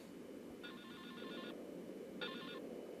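A phone rings in the video game Silent Hill Shattered Memories with two electronic trilling bursts, a longer one and then a shorter one, heard faintly over a quiet hiss.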